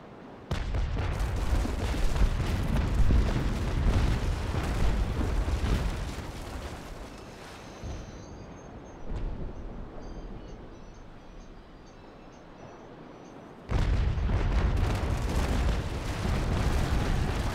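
Naval Action sailing-ship cannons blasting grapeshot: loud rumbling broadside volleys at the start, fading to a quieter lull with faint creaks, then another heavy barrage near the end.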